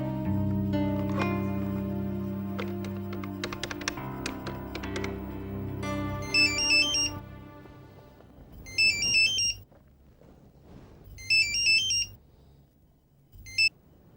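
A telephone ringtone rings in repeated high electronic bursts, four short phrases spaced a couple of seconds apart, after a stretch of music and room sound in a Pakistani drama scene.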